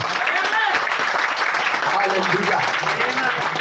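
A church congregation applauds during a Telugu Christian sermon: dense, sustained clapping fills the whole stretch at steady loudness, with some voices mixed in.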